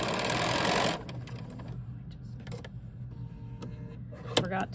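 Sewing machine stitching a quilt block seam along the selvage, a brief rapid mechanical whir at the start, then quieter clicks and handling noises with faint voice in the background.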